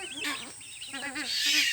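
Grey-headed swamphens kept as backyard birds call in short, nasal, wavering honks and cackles, a few quick overlapping notes close by against a faint background hiss.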